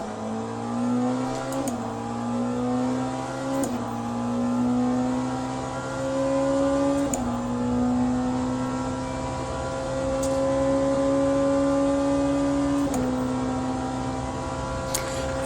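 Race car in Le Mans Ultimate, a continuous close engine drone climbing in pitch through the gears, with short dips and clicks at each gear change every few seconds, no voices.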